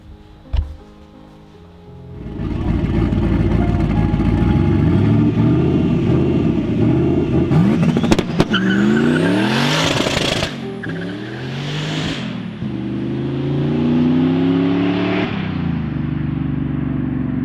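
A drift truck's engine starts loud and stays hard on the throttle, revving up and down repeatedly in first gear while the tires spin, with rising and falling pitch sweeps close to the microphone.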